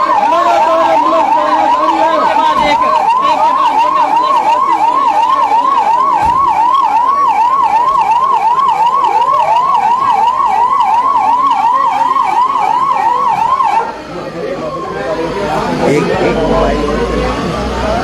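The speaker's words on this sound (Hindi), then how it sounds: "लगातार एम्बुलेंस" A loud ambulance siren wails in a rapid, steady warble for most of the clip during a mock emergency drill at a district secretariat, with traffic noise and voices underneath, then cuts off near the end.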